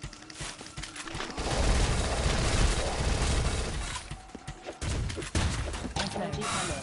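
Rifle and SMG gunfire in the zombie shooter Dead Nation, dense rapid bursts of shots layered with game effects, loud and continuous with brief pauses.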